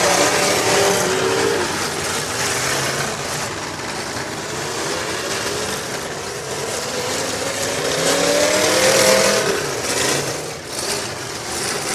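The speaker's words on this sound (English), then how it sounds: "14's motor is just singing." Race car number 14's engine howls at high revs out on the track, a loud sustained roar with rising and falling pitch sweeps as it passes and shifts, swelling louder near the end.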